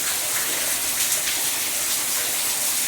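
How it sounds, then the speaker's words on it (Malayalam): Steady rain pours down in a dense, even hiss with no voices. "നല്ല മഴ പെയ്യുന്നുണ്ട്."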